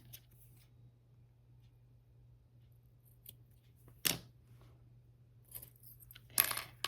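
Scissors snip through elastic during a sewing project, several quiet, sharp cuts spread across a near-silent room with a faint hum underneath.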